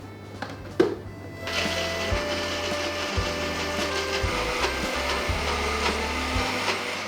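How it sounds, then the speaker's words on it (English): A high-powered blender whirs as it blends an almond mixture for a plant-based bostock, a steady loud motor drone with fluctuating grinding texture that starts abruptly after a brief quiet knock and runs continuously to the end. "And then we're blending this in a high-powered blender."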